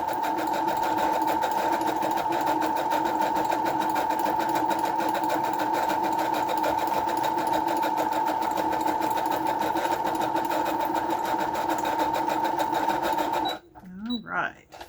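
A sewing machine runs in one steady, even whir as it stitches around the edge of a paper Christmas ornament tag for a junk journal, close and continuous before stopping abruptly near the end.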